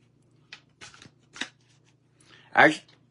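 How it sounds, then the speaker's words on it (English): Hermetic Tarot cards shuffled by hand: a few soft riffling bursts build to one loud, close flurry near the end, with faint low hum underneath. "I'm going to shuffle this deck here"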